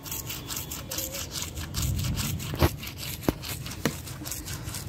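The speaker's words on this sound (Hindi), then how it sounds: "तो दोस्तों आप देख सकते हैं कितना अच्छे से ब्रश कर रहा है, मजे से।" A toothbrush scrubbing a Doberman dog's teeth, close and steady back-and-forth rasping strokes with a few sharper knocks, no talking.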